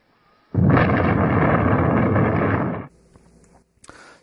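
A bomb explosion erupts as a loud, sustained roaring blast lasting over two seconds, then cuts off abruptly, leaving faint rumble and a few small crackles.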